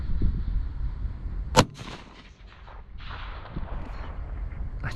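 A single sharp rifle shot from a .204 Ruger fired at a groundhog about 370 yards away in open country, loud and close with a quick crack followed by fading rumble and quiet outdoor rustling.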